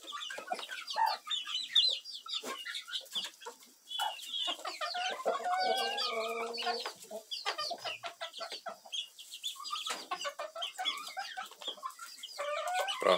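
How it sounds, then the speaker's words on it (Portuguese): Sertaneja balão hens cluck and chatter steadily at close range, with overlapping calls and short squawks from several birds in a farmyard flock. "Eu gosto demais do galinha sura."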